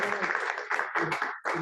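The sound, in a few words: audience applause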